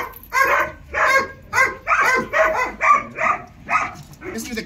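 A dog brought along for mating barks loudly and close by, giving about nine sharp barks in a fairly regular rhythm.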